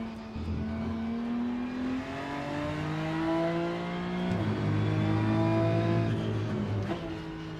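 A BMW race car engine in the racing game Rennsport at the Nürburgring revs continuously and loudly, pitch climbing through gears with brief dips at shifts, steady close drone throughout.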